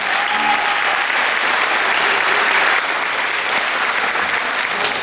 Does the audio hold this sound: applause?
yes